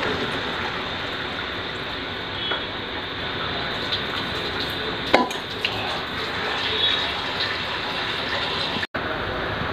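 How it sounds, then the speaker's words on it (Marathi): Water pouring steadily from a vessel into a pan of vegetable curry, a soft continuous splashing rush with a couple of small clinks, no talking. "आपल्याला लागेल तेवढं पाणी घाला भाजीत।"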